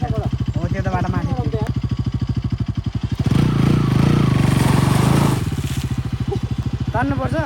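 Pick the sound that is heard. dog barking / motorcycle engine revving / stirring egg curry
motorcycle engine revving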